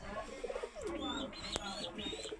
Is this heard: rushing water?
no